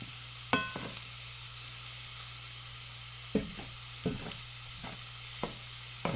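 Polynesian fried rice in a hot pan, with a steady soft sizzle running throughout and several sharp scraping clicks of a utensil stirring and tossing the rice at irregular intervals.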